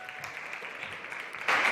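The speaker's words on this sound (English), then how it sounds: "Big applause, Iker." Audience applause at a summit stage event, a steady patter of clapping that swells louder near the end.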